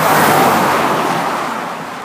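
A car rushing past close by a roadside, a loud broad whoosh that peaks at the start and slowly fades as it moves away, with no voices.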